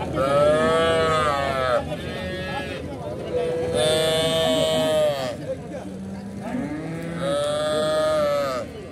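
Cattle lowing repeatedly at a busy livestock market in Karimangalam, with long drawn-out moos coming one after another over a steady crowd murmur and nearby talk.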